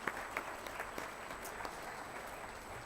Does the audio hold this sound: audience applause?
yes